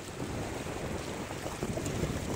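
Wind gusts buffet the microphone on a Lake Erie shore in Ohio, a steady broadband roar close up with no voices.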